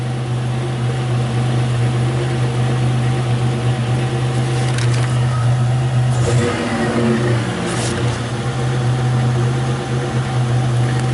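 A Buick Grand National engine idles roughly with a steady low hum and a droning tone, broken by a couple of brief uneven stumbles and clatters, loud and close with no voices.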